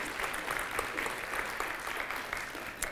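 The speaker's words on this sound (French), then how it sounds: "Vous pouvez applaudir Bertrand Meyer qui vous accueille ici" An audience at a university science talk claps steadily for the host, moderately loud, with a few sharper individual claps standing out near the end.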